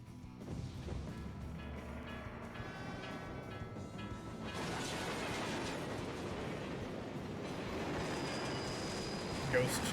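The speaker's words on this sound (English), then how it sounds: "Ghost train." A ghost train in the Bravely Default video game rumbles and rattles steadily, swelling louder about halfway through over layered game music.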